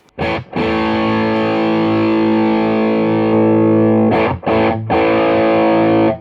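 A heavily distorted electric guitar chord, played through a boost placed after a Keeley D&M Drive overdrive pedal, rings out loud and sustained, with a few brief choppy strums at the start and near the end.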